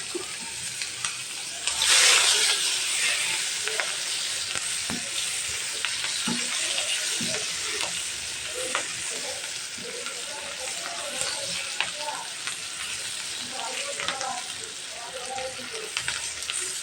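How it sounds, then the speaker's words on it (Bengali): Chopped onion hitting hot oil left from frying fish, a loud burst of sizzling that settles into a steady crackling fry with occasional stirring and clinks. "এখন ওই তেলে আমি পেঁয়াজের কুচিটা দিয়ে দিচ্ছি।"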